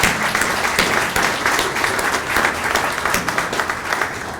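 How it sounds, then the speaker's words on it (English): A large audience at the Chesterfield County Senior Volunteer Hall of Fame ceremony breaks into loud, sustained applause, a dense wash of many hands clapping steadily throughout without any talk. "we have to give her a round of applause because she is the face of Chesterfield County"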